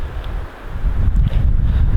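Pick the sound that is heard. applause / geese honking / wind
wind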